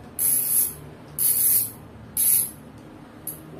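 A Fastace bicycle hub, original and not yet upgraded, gives off bursts of rapid, bright freewheel ratchet clicking as the wheel is spun. The bursts come in three clear spurts with a short, faint fourth, separated by pauses, close and alone.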